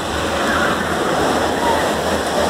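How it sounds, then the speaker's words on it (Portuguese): Rushing water in a park in Rondônia, a steady loud broadband roar like sea waves breaking, continuous and close with no pauses. "Parece as ondas do mar aqui, ó."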